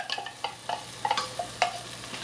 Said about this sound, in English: just put the can of diced tomatoes right from the can into your pot here